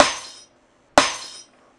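A glass-smashing sample on a Boss Dr. Pad drum machine crashes twice, each a sharp bright shatter that rings down over about half a second, with a short silence between the hits.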